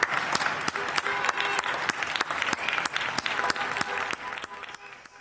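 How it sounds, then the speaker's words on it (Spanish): Public applause for essential workers such as hospital and care-home staff, crisp individual claps in a dense, echoing chorus, as if from balconies, steady for several seconds with some voices mixed in. "Para todos ellos, estos aplausos."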